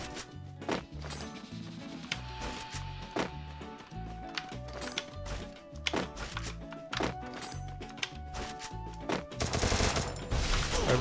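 Rapid bursts of video game gunfire crack steadily over a pulsing beat, with punchy thuds between shots and a dense final flurry.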